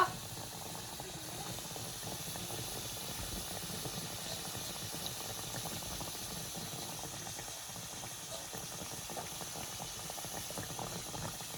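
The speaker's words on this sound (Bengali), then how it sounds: "গাইস দেখো তেলটা গরম হয়ে গেছে, আমি আলু পোস্তটা দিয়ে দিলাম" Aloo posto, potatoes coated in poppy seed, frying in hot oil in a pan, giving a steady low sizzle and bubbling that holds even and fairly quiet throughout, with no talking.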